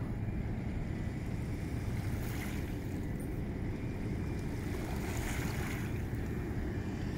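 Ocean waves and wind along the Pacific shore at a park in Vancouver, British Columbia, a steady loud roar of surf with gusting wind buffeting the microphone throughout, with no voices.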